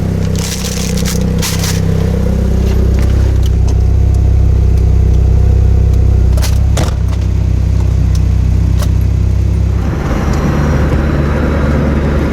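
A Datsun 510 swapped with an SR20DET engine runs and drives off, a loud steady engine rumble up close with scattered scrapes and rattles, the tone shifting near the end as it pulls away.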